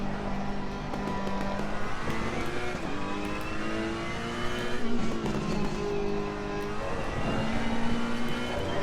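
A Ferrari race car in Assetto Corsa Competizione drives hard, its engine droning steadily and rising and falling through gear changes, with brief tire squeal in the corners and no talk.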